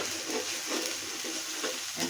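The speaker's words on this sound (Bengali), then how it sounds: "একটু কষিয়ে নিচ্ছি।" Meat curry being sautéed with turmeric and coriander powder in a pan gives a steady, close sizzle with faint rhythmic stirring scrapes.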